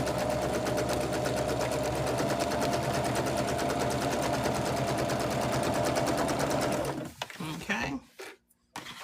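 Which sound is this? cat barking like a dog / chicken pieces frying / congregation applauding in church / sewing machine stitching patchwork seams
sewing machine stitching patchwork seams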